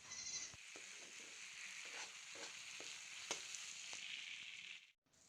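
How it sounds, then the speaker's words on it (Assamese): Crushed ginger and garlic fry in hot oil with tomatoes for a mutton curry, giving a steady close sizzle with occasional stirring clicks that stops near the end. "খুন্দি লোৱা আদা নহৰুখিনি ইয়াত দি দিম আৰু নহৰুৰ কেঁচা গোন্ধটো যোৱালৈকে ভাজি"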